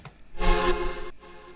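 A saw synth layer made in Serum sounds alone: one bright, buzzing brostep stab that swells, holds for about a second, then cuts to a quieter tail.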